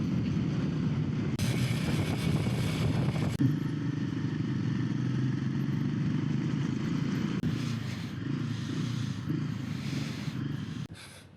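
Motorcycle engine droning steadily while being ridden over a rough high mountain pass on the route from Nubra to Pangong Lake via Wari La and Chang La, with constant wind buffeting the microphone throughout.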